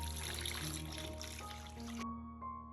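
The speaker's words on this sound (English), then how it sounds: "Add about 1 liter of water to the pot." Water poured into a cooking pot, a steady trickling stream that stops abruptly near the end, leaving a faint ringing tone in a quiet kitchen.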